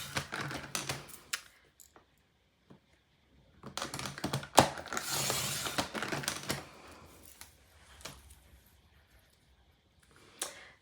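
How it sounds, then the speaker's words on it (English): Strips of designer paper cut a quarter inch wide on a paper trimmer, heard as bursts of close clicking and sliding scrapes separated by quiet pauses, with one louder swishing pass in the middle. "you're going to need to cut 2 strips of paper to be a 1/4 of an inch wide"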